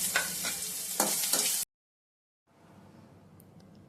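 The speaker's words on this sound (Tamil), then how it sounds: "நம்ம சின்ன சின்னதாக நறுக்கி வச்ச ஆனியனை போட்டு வதக்குங்க." Chopped onions sautéing in oil in a pan, a steady close sizzle with stirring scrapes in the first part, then a short silence and a fainter, quieter sizzle resuming.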